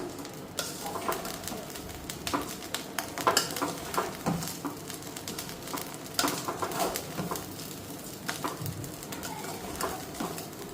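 Rice lightly frying in a pan, giving a soft continuous sizzle with scattered stirring scrapes and taps, close and moderately quiet, with no talking.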